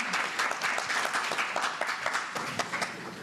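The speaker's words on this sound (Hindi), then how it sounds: "सबसे ज्यादा तालियां श्रोताओं के लिए।" Audience applause at a Hindi poetry evening, a steady wash of many hands clapping from a modest crowd, continuous and fairly even for about three seconds with no one speaking.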